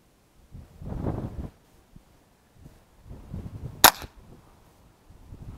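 A rimfire rifle fires a single CCI Quiet subsonic round, giving one brief, sharp crack between quiet stretches of low handling noise and soft rustling.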